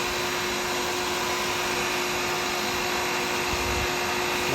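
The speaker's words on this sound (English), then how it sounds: "So I'm going to sand at that." A turned click pen being sanded on a wood lathe: a steady whirring motor drone with a constant tonal hum and soft abrasive hiss, continuous and close, no talking.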